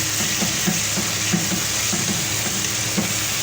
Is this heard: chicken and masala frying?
yes